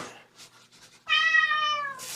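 A kitten at bedtime gives one clear, drawn-out meow lasting almost a second, close and fairly loud after a few soft rustles, in a quiet indoor room.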